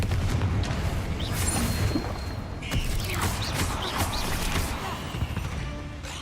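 Bombarda and Confringo spells burst in Hogwarts Legacy, a dense, loud wash of blasts and crumbling debris with creaking mechanisms, continuous and full for six seconds, under a layer of game effects.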